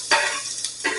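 Broccoli dropped into sizzling butter in a pan while cooking surf and turf, a quick burst of crackling sizzle that flares twice within a second, close and loud with no talk.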